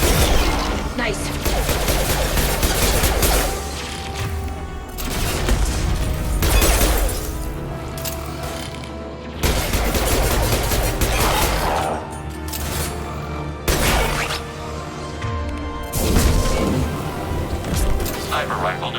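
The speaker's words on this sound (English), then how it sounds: "Sniper rifle neutralization." Sniper rifle shots in the video game Mass Effect 2, several sharp loud cracks spaced apart amid combat noise, with in-game voices speaking over parts of it.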